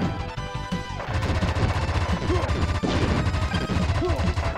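Rapid machine gun fire in the SNES shooter Wild Guns, loud continuous rattling bursts mixed with blasts and other game effects filling the whole stretch.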